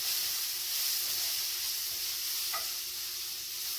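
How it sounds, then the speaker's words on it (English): Onions frying in a pan give a dense, steady sizzle close up, with faint scrapes of stirring under the hiss and no voices. "I got to stir my onions because I don't want them"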